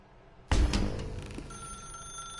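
A telephone bell ringing in the video game The Stanley Parable, starting abruptly with a loud bright burst of ringing and then trailing into a sustained, slowly fading electronic tone with no talk over it.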